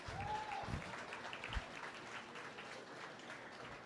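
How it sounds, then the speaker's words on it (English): An audience applauds seniors at a livestock showmanship contest. The clapping is steady and moderately loud, with a brief voice and a short whistle-like tone early on. "give these seniors a big round of applause."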